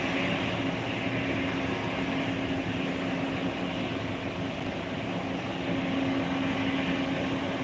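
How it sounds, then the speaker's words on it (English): A Thai Airways Airbus A320 at Phuket International Airport, a steady, continuous jet roar with a low hum held evenly throughout, moderately loud and unbroken, with no talk over it. "It's the Thai Airways A320."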